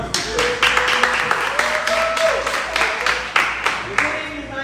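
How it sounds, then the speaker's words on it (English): Audience applause at a town hall meeting in Greenville, North Carolina, with sharp individual claps standing out over a crowd, mixed with voices talking throughout. "Give you a round of applause"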